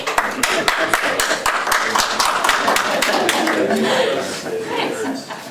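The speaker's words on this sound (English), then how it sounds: "You want people to clap? Yeah, give her a warm welcome." County commission meeting attendees clap to welcome the Human Resource Director, a brief round of sharp, fairly close hand claps mixed with chuckles and murmured voices.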